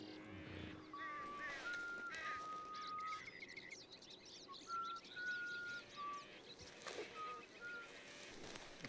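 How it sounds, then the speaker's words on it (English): Someone whistles in the Red Dead Redemption 2 open-world game, a series of thin sustained whistled notes at shifting pitches, faint against outdoor ambience with occasional bird-like chirps. "I find that quite disconcerting, that whistling."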